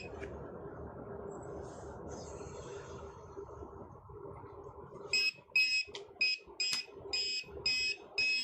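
An electronic beeper, muffled under a thumb, gives a steady run of short, evenly spaced beeps in its last few seconds, close and fairly loud, after a long stretch of dull background rumble and noise.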